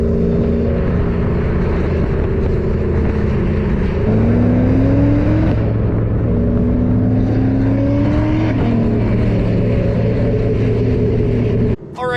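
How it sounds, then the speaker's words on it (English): Loud, close engine drone from a Ford SVT Cobra Terminator driving in Alberta, with steady low exhaust hum and rising tones as it accelerates through the gears, continuous and without talking. "thought I'd take you out for a quick drive in the Cobra before the snow flies here in Alberta"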